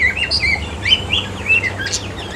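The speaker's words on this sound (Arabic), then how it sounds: "شي عصافير زوينين" Small birds chirping and tweeting in a pet bird shop, a busy overlapping chorus of short high calls that carries on throughout at moderate loudness, with a steady low hum beneath.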